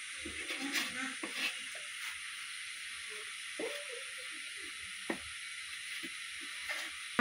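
Mutton being stirred into bhuna khichuri in a pot: faint intermittent scraping and soft sizzling from the cooking, with quiet gaps and a constant high background hiss.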